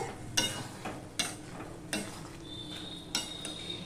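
Ash gourd curry cooking in a pan, a soft bubbling sizzle broken by several rhythmic scrapes and knocks of a spoon against the metal, close by with no voices.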